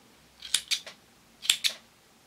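Two quick pairs of crisp scissor snips cutting crochet yarn, close and clear against near silence.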